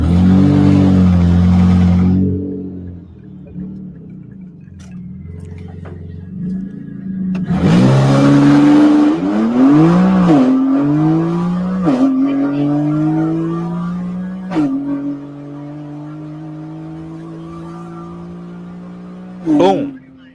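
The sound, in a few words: 800 wheel horsepower car revving during a dyno run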